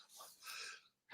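A single quiet sneeze from a woman, a short breathy intake followed by a sharp burst and a brief trailing huff.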